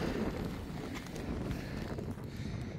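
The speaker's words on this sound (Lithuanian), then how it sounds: "Vėjas irgi didelis." Strong wind gusts steadily against the microphone on a long outdoor staircase, a constant low rumble with faint scuffs underneath.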